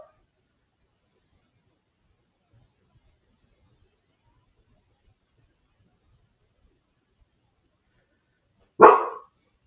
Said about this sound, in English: What's he barking?